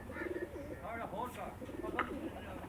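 Several pigeons kept in a loft coo in rolling, throaty calls that overlap one another, close by and steady, over a low background hum.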